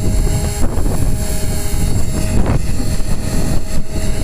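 A 450 Pro RC helicopter with a Turnigy 2218 motor runs steadily and fairly close, a loud continuous whine and rotor buzz with slight pulsing and no talk.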